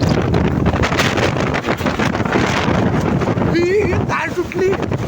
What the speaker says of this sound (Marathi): आता वारा एकदम आहे.